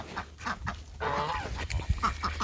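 Ducks and geese in a backyard poultry coop give nasal honks and quacks, several short calls close by with a brief louder burst.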